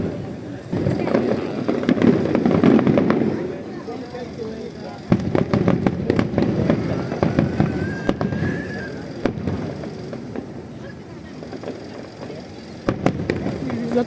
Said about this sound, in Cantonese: 1個鐘頭嘅13000發嘅呢個煙花